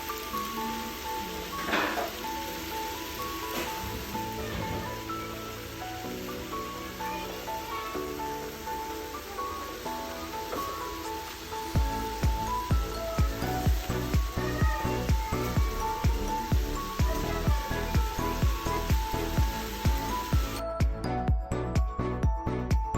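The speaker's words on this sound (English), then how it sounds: "So I guess we're just gonna let it simmer for a little bit." Sliced zucchini (courgette) simmers in a pan with a steady sizzling hiss, and soft bubbling and a stream of crackles grow denser and more rhythmic partway through; no voices.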